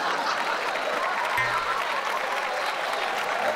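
Steady, dense applause from an audience fills the whole stretch, even and sustained, with faint voices beneath.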